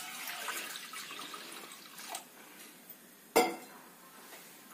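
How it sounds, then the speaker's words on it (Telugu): Rice-washing water goes into a pan on a lit stove while a drumstick curry is cooked: a quiet trickle of pouring and sloshing, then one sharp splash near the end, with no talk. "స్టవ్ వెలిగించి దాని మీద బాణీ పెట్టి ముందుగా కడిగి పెట్టుకున్నా బియ్యం కడిగిన నీళ్ళు"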